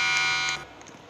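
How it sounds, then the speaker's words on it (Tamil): An alarm sounding in the My Brother and Me video game, a loud sustained electronic buzzing tone that cuts off abruptly partway through, leaving a faint quiet tail. "Any alarm is going of the out side, check it out, be careful."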